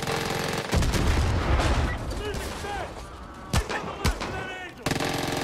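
Rapid gunshots and machine-gun bursts crack loudly in Far Cry 5 gameplay, followed by a few isolated sharp shots, with a voice talking between them.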